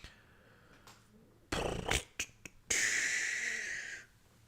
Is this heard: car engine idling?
no